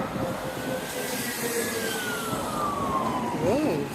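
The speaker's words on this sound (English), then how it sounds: "It is an ambulance." An ambulance siren wails as it passes along a city street in Vancouver's Renfrew-Collingwood area, its rising and falling tone fairly faint beneath steady traffic and street noise.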